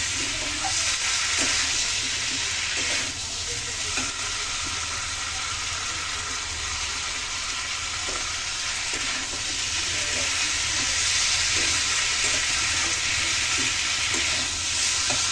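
Cauliflower, potato and tomato curry sautéing with spices in a pan, a loud continuous sizzle and hiss running throughout with occasional soft stirring knocks.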